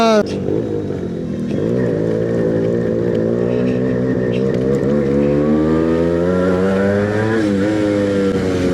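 A Suzuki Shogun two-stroke motorcycle engine pulls hard while riding, its buzzing note rising in pitch through repeated gear changes, loud and continuous.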